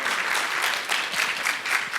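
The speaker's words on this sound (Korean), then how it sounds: "박수로 맞아주시죠." Studio audience claps to welcome two dentist guests onto a talk show stage, a dense, even burst of applause throughout with no talking.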